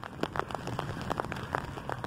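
Heavy rain falls on a cyclist riding the Cherry Creek Trail, a dense, loud patter with pulsing gusts of wind and road noise throughout.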